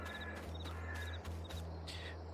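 Crows cawing in Farming Simulator 22, four or five harsh caws spaced about half a second apart over a steady low engine-like drone, fairly close and clear.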